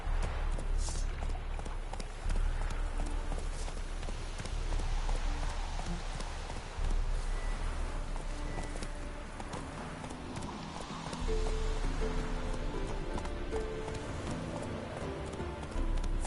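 Roach, the horse in The Witcher 3: Wild Hunt, gallops steadily with rhythmic hoofbeats over continuous game ambience and music, loud and close throughout.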